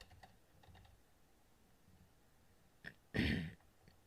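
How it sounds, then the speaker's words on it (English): Keys on a computer keyboard tap lightly in a quiet room while a stock database search term is entered, followed by a louder burst of clattering near the end; no one speaks. "So we can just type the TEJ here."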